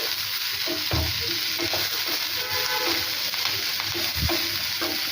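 Sliced onion, green chillies and curry leaves frying in a pan, a loud continuous sizzle with a ladle stirring and scraping through it and a couple of heavier knocks against the metal.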